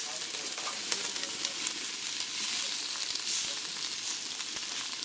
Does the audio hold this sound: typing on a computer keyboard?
no